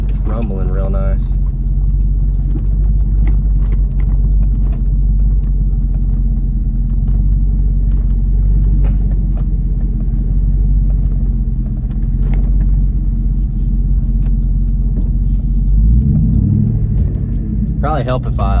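A 2008 GMC Yukon Denali idles with its muffler cut off, giving a loud, steady, deep exhaust rumble close by that holds throughout with small throttle swells, and a voice speaks briefly over it.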